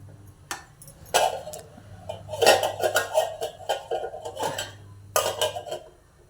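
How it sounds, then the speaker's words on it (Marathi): Several sharp metallic clanks and rattles as a pressure cooker lid is set in place over cooking dal, close by, with short pauses between bursts. "कुकरमध्ये आपण डाळ शिजाय ठेवू त्याच्यावरती झाकण"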